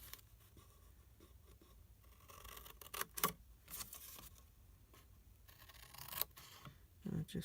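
Scissors cut through paper card along straight lines for a handmade masculine gift bag, giving a few short crisp snips and scrapes close by against quiet background.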